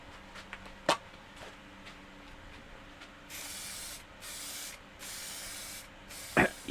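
Aerosol can of High Coat clear lacquer from a body shop range spraying in several hissing bursts of about a second each, close up, with a few sharp clicks around them.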